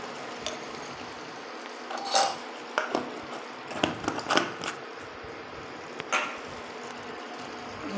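Spoon scraping and clinking in a metal pan while garam masala is stirred into chicken korma in a home kitchen, a run of irregular scrapes and taps up close, with no talk.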